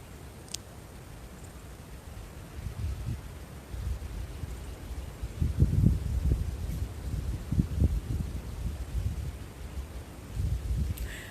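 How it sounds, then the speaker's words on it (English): Gusty wind rumbles low and rises in surges through the middle, with a soft rustle like leaves stirring in the trees. "But I love the wind."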